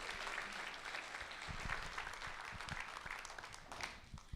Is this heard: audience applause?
yes